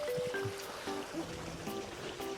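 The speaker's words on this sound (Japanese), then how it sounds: "ちっちゃい滝がありました。" A small waterfall at a countryside spot in Chichibu, Japan, gives a steady, even rush of flowing water, with faint voices and tonal sounds over it.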